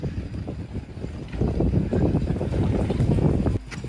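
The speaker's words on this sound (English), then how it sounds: "So here's to putting up the Genoa." Genoa sail being hoisted on a sailboat moored off Martinique, a steady broadband rush of flapping cloth, line and wind noise that swells after the first second and drops off briefly near the end, no talk.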